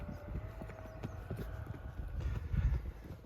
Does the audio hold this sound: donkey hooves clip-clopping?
yes